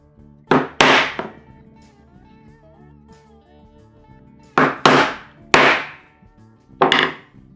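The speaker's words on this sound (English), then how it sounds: "Let's use a 3/8 punch to get these corners." A 3/8 punch is hammered through leather for a folding-knife belt case, giving sharp, close mallet strikes in pairs: two early blows, then a cluster of three, and a final single hit, each with a short ringing decay.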